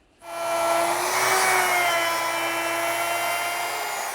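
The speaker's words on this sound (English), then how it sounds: "take a router and start to remove some of that material" Router with a half-inch cove bit cuts wood on a clock, starting abruptly and settling into a loud, close, high-pitched whine with a steady cutting rasp and no talk.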